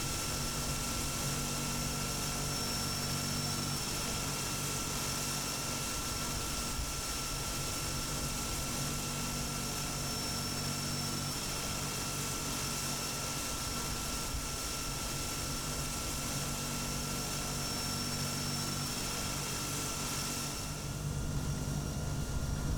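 A Carenado C208B Grand Caravan taxis off the runway onto the taxiway at an airport in the Prepar3D flight simulator, with a steady, unbroken turboprop engine drone and whine that holds even throughout.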